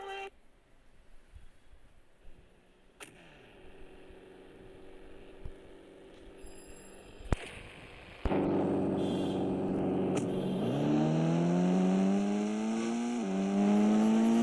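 A Bolero in the Indian Bikes Driving 3D game sits quiet at first with scattered clicks, then a loud engine hum starts and rises in pitch as the car accelerates, steady to the end.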